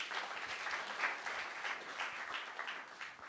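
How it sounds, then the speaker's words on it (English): Audience applause at a kanthari TALKS 2025 speaker event: a steady, dense wash of clapping from a crowd, holding at an even level throughout with no talk over it. "Round of applause."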